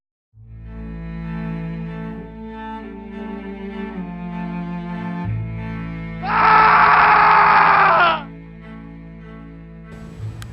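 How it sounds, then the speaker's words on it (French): A loud, piercing scream erupts for about two seconds over sustained droning tones that continue before and after it. "Un cri perçant jusqu'à terrifier tous les oiseaux."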